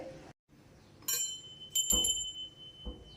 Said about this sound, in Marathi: यानंतर इथे आपल्याला घंटी ठेवायची आहे जी रोजच्या पूजेत आपल्याला लागणार आहे